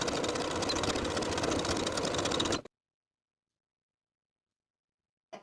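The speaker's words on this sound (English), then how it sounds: "zigzag in place to secure" A sewing machine runs a zigzag stitch over the overlapped ends of waistband elastic, a fast even whirring rattle for about two and a half seconds, then silence before a brief restart.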